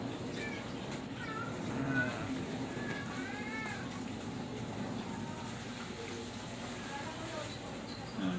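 A pet cat with a bobbed tail grooms itself indoors, making a few soft meows and faint licking sounds under steady background noise and a murmuring voice.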